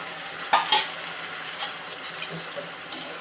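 Soaked bread goes into a hot tempering in a pan for bread upma and is stirred through it. A close, soft sizzle runs throughout with a couple of brief scrapes and knocks of the utensil near the start.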